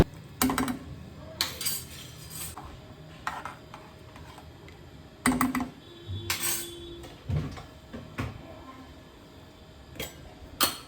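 Pots, pans and utensils are handled and put away in a home kitchen, with scattered close clanks, clinks and knocks in irregular bursts and quiet gaps between them.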